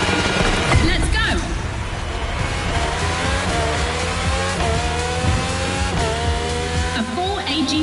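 Race cars in The Crew Motorfest accelerate hard off the start line, engines roaring loud and close with rising revs and gear shifts, layered over a constant engine drone while a voice talks over it.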